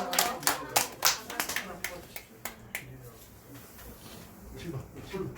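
A small gathering at a church talk claps briefly, sharp hand claps bunching together early and then thinning into scattered claps over a murmur of voices.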